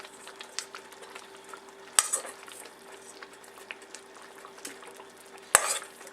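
Cornstarch sauce with paneer being stirred in a pan for tikka masala, a soft steady scraping and faint sizzle with a couple of sharper utensil knocks against the pan, close and quiet, no talking.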